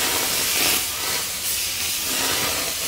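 Chickpea protein dosa batter sizzles on a very hot stove, a loud, steady hiss of steam and frying that swells and eases slightly over a few seconds, with no voices.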